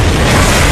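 A loud, dense burst of roaring explosion noise in the video game Gears of War 3 fills the whole moment, broad and rumbling without any talk.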